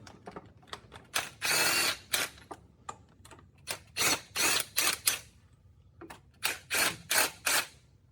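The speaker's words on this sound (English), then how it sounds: "I use my impact driver now." An impact driver works bolts loose on an Acura MDX engine, firing in a string of short, loud rattling bursts of varying length separated by quiet pauses, close up with no talk.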